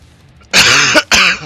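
A person coughs twice in quick succession during a live podcast stream, loud and close to the microphone, the first cough longer and harsher than the second.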